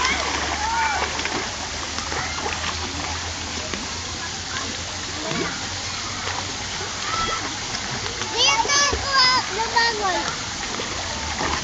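A child swims and splashes in water, with steady rippling and sloshing throughout and a louder burst of splashing near the end, while adults and someone talk over it.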